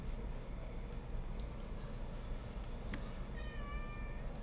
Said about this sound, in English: It's just my cat's so hungry.